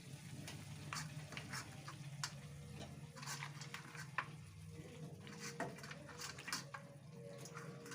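Chicken pieces dropped into hot spiced masala fry with a steady crackling sizzle and scattered sharp pops, close and continuous, with a low stirring rumble underneath and no talking.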